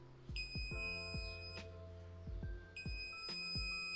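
A Knog Scout bike alarm goes off with loud, close electronic chirps, falling tonal sweeps and sustained beeping tones, repeating in bursts over a few seconds without talk.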